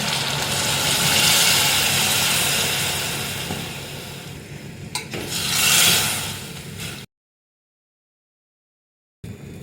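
Water pours into a pot of buttered vegetables cooking for pav bhaji, making a broad rushing hiss that swells, eases, and surges again with a sizzle, ending in a brief silence.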